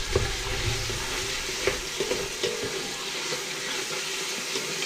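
Meat sears in a couscoussière, a steady sizzle with scattered clinks and scrapes of stirring, moderately quiet and without talk.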